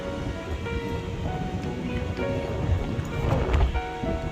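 Steady wind roars and rustles through hilltop trees at Danes Dyke Nature Reserve, a broad continuous whoosh that swells slightly toward the end, with faint voices underneath.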